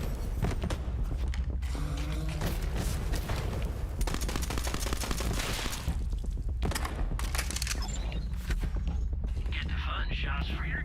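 Gunfire rattles in the Borderlands 3 video game as rapid bursts of shots and mechanical clatter run continuously over a dense, loud game soundscape, with voices talking over it.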